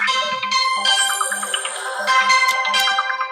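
A mobile phone rings with a spam call, its bright electronic ringtone melody repeating in a steady, close, fairly loud pattern for a few seconds with nothing else over it.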